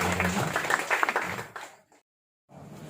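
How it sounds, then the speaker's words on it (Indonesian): Audience at a public regulation outreach meeting applauding a speaker, a burst of dense clapping that fades out, cuts to brief silence, then resumes faintly. "Kita berikan aplaus kepada Bapak"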